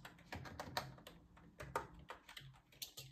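Commands being typed on a Chromebook keyboard: a run of quick, close key taps with small irregular pauses, with no talking over them.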